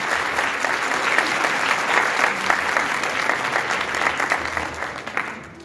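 A church congregation at Sunday worship claps for the Sunday school children and teachers after their Advent performance, a dense sustained round of applause that fades slightly at the very end.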